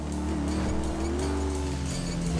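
A powerful motorcycle engine in the video game GTA V drones steadily and loudly throughout, its pitch rising and dipping slightly as the bike is ridden.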